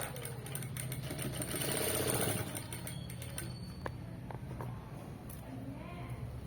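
A sewing machine runs steadily, sewing a cross-cut stitch on fabric hangings. Its close, continuous mechanical whirring and rapid needle chatter carry through the whole stretch, with faint voice-like sound in the background.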